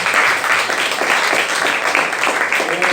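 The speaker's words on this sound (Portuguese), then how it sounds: "Você pode aplaudir o Senhor" A church congregation applauding together during a worship service, a dense, steady wash of many hands clapping that stays loud throughout without a break.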